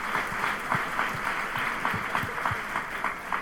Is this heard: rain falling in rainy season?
no